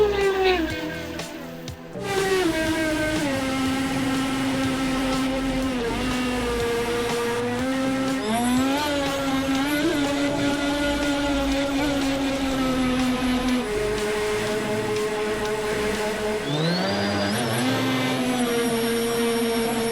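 A small motor whines steadily at high pitch, its tone rising and falling as it speeds up and slows, close and continuous.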